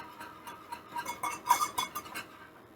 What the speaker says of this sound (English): you just whisk it together until it gets nice and thick again